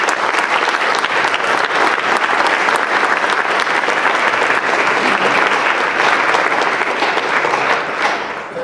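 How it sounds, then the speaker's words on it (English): A banquet audience of oral and maxillofacial residents and guests breaks into dense, sustained applause, loud and steady throughout before easing slightly at the very end. "I'd like to just join me in an applause for them."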